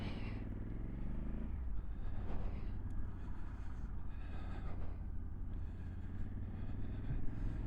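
A 2023 Honda CRF1100 Africa Twin Adventure Sports fitted with an SC Project exhaust revs up, its engine note rising and falling in a few blips over a steady low rumble, moderately close.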